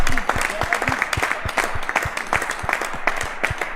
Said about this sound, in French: Je vous prie d'applaudir très fort pour Fabrice